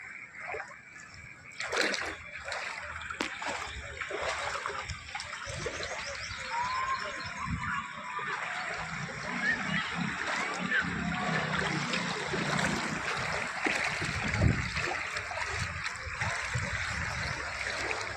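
Water runs and splashes steadily throughout, a continuous rushing wash with occasional louder sloshes, fairly close and without talk.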